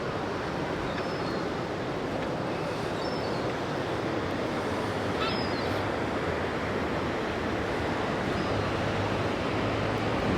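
A river flowing through Bath produces a loud, steady broadband rush of water that stays constant and close throughout, with a few faint bird chirps above it.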